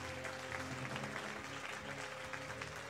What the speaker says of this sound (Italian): l'applauso è tutto per loro